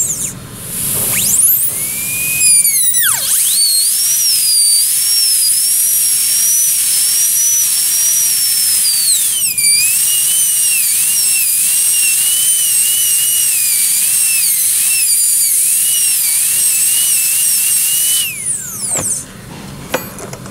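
A dental drill with a burr cutting a cavity in a typodont tooth gives a loud, high-pitched whine that dips in pitch as it bites in, running continuously for long stretches with brief stops.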